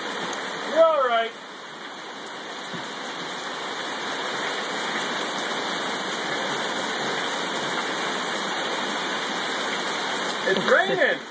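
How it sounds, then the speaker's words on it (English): Heavy rain pours steadily outdoors in a dense, even hiss like a downpour, with a voice and other excited voices breaking in briefly at the start and end. "It's raining really hard."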